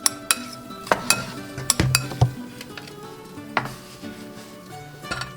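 Salad dressed with balsamic vinegar is tossed in a bowl, close sharp clinks and scrapes of utensils against the dish in an uneven rhythm, with no talk.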